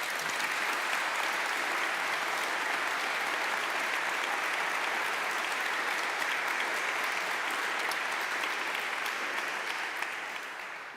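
Steady applause from a church audience at an evening talk, dense clapping holding even throughout before fading slightly at the end.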